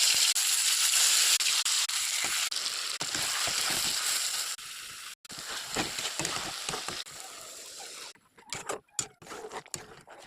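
Fish hitting hot oil with fried black cumin sizzles loudly and steadily close up for about eight seconds, then the frying breaks into choppy, uneven crackles.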